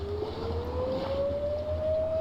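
A lone siren wails in the distance, its single tone climbing slowly and steadily over a low rumbling background, with no voices.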